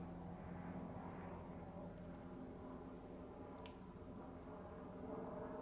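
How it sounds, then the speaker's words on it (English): An aeroplane passes overhead, a faint, steady distant drone in a quiet room with a few small ticks and clicks nearby. "could you hear the aeroplane overhead?"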